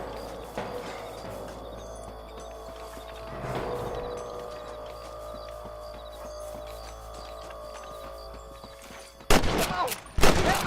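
Burst of gunfire in the Western game Red Dead Redemption erupts loud and sudden near the end, with a few sharp cracks after a long stretch of quiet ambient background.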